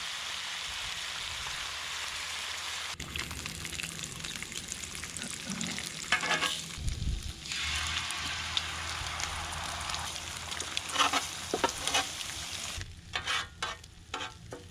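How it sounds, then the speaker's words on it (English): Eggs being scrambled on a 17-inch Blackstone griddle give a steady, loud sizzle for the whole stretch, with scraping and stirring strokes breaking through the frying hiss. "First up, I'm gonna scramble the eggs."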